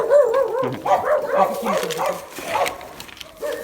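Several stray dogs bark, yip and whine close by in short overlapping bursts while being fed, as a person talks over them.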